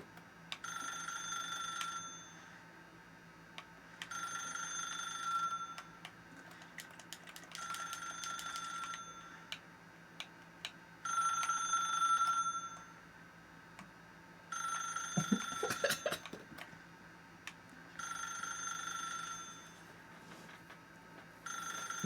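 A telephone rings in The Stanley Parable video game, its repeated electronic bell bursts coming in a steady on-off pattern, fairly faint, with a brief clatter partway through and no talking.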